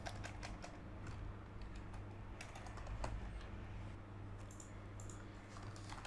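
Quiet, steady clatter of fingers typing on a computer keyboard, uneven bursts of keystrokes over a low background hum, with no talking.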